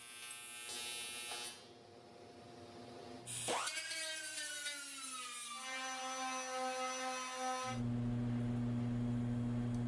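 Power sander working rough aluminum welds on a firewall, a steady high whine that drops in pitch under load and then settles into a continuous buzzing drone.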